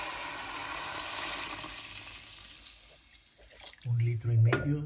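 A litre and a half of water poured into a pot of chicken soup makes a steady splashing rush that fades, followed by a louder burst of sloshing near the end.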